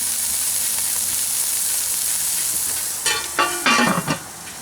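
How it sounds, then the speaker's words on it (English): Diced thick-cut bacon fries steadily in a Dutch oven outdoors in the cold, a soft continuous sizzle with a few louder crackling pops near the end. "regular thick cut pieces of bacon, diced up. Go ahead and let that cook and start to brown up."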